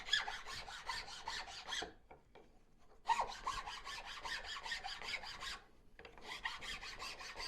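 A fine wood rasp cleaning up a carved twisty spoon, rapid rhythmic rasping strokes in three bursts separated by short pauses, close and fairly quiet, with no one talking.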